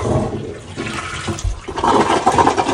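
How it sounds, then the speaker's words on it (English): A toilet flushes after its water supply is shut off during a hands-free bidet installation: a rushing, gurgling swirl of water lasting about three seconds that grows louder toward the end, with no talking. "Now we have to shut off the water and flush."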